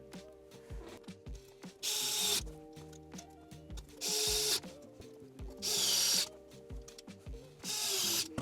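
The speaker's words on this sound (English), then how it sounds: "you'll want to fix the PCB into the handle itself. So again, take 4 screws and screw that in to position." Four bursts of a small power driver running screws into a PCB inside a 3D-printed handheld vacuum handle, each about half a second to a second long, with quieter handling and clicking between them.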